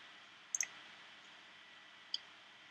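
A few sharp clicks, like a computer mouse being pressed while browsing a medication search site: a quick double click near the start and one more single click a moment later, close and clear over a faint steady hiss.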